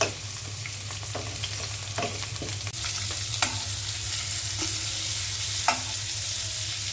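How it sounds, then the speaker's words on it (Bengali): Fish frying in a pan with steady sizzling and occasional scraping stirs, heard close and alone without voices. "মাছটা ভাজা হচ্ছে।"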